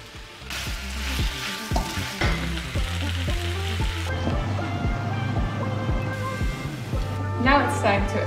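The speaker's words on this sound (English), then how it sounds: "Adding some spinach now, and I always add a lot because spinach gets very small when you heat it up." Spinach sizzles and crackles in hot olive oil in a pan, a steady close frying hiss with stirring and clinks under a talking voice.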